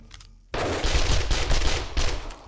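Loud, dense automatic gunfire from the 7 Days To Die video game erupts after a brief quiet start, a rapid sustained burst of shots close up with no talk.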